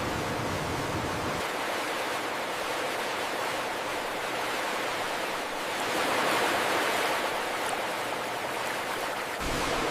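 Water rushes through long washing channels in a banana cake factory, a loud, continuous broadband wash that swells slightly midway and stays steady throughout.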